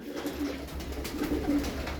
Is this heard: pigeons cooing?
yes